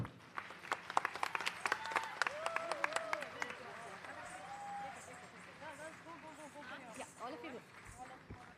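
Audience clapping after a Bharatanatyam arangetram dance performance, sharp scattered claps thick at first and thinning out, with a voice speaking over the applause on stage.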